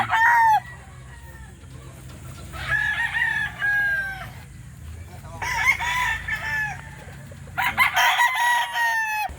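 Roosters crow repeatedly at a Sunday chicken market in Calauan, Laguna, several long cock-a-doodle-doo calls rising over a steady low crowd murmur with scattered clucking, the crows loud and near in clear bursts.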